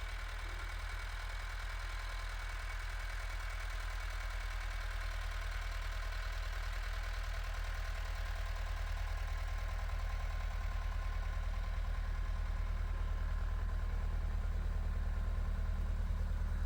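A tractor engine idles steadily with a deep low rumble and faint knocking while the driveway is cleared of ice, droning continuously at close range with no voices.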